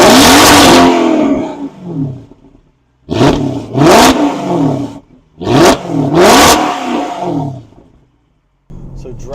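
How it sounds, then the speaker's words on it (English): The engine of a Mercedes CLS63 AMG revs hard in repeated bursts, roaring up then dropping back, with short quiet gaps between the loud, close pulls. "The crazy thing about this engine is the way that it sounds."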